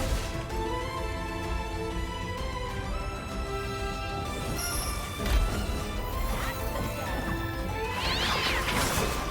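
A cat in the video game Code Duck 2 yowls and meows amid layered game music and crashing hits, the cries rising over a busy, dense soundtrack.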